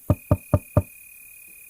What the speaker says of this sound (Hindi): उल्लू घर का दरवाजा खटखटाता है।